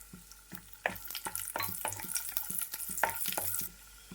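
Raisins fry in hot ghee after cashews, with a close, steady sizzle and crackle broken by repeated scraping stirs of a spoon in the pan.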